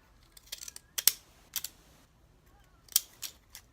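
Scissors snip through paper in a few short, crisp bursts of clicks and cuts, close by and quiet, separated by brief pauses.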